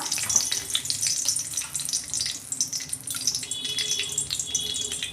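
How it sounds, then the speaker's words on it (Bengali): Two bay leaves and three dried red chillies hit hot oil left over from frying hilsa fish, producing a loud, continuous hissing sizzle up close with no talking. "মাছগুলো তুলে নিয়ে ওই তেলের মধ্যে আমি 2টো তেজপাতা, 3টে শুকনো লঙ্কা"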